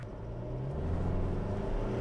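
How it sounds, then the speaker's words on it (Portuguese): A Chevrolet S10 Z71 pickup with a 2.8 Duramax turbodiesel engine accelerates on a busy highway to about 80 km/h, a steady low rumble and engine drone heard from inside the cab. "Essa foi uma aceleração até aproximadamente 80 km por hora aqui"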